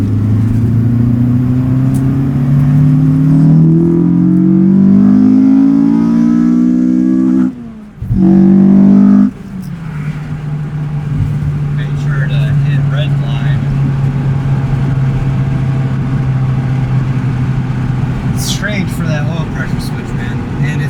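The rebuilt Acura TSX engine revs up through a pull, its droning tone climbing steadily, breaking off briefly, then settling into a steady lower hum, loud and close, with faint cabin noise.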